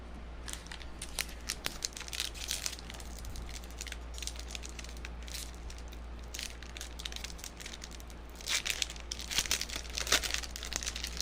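Crinkling and tearing of a Magic: The Gathering booster pack wrapper, a fairly faint run of crisp plastic crackles that bunch into louder bursts near the end, with no voices.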